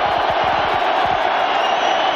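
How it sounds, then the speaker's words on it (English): A Nebraska stadium crowd at a 1994 college football game against Colorado, a dense, loud roar of thousands of fans with scattered shouts and whoops, continuous and unbroken throughout. "Crowd trying to make it as difficult as possible down there for Stewart."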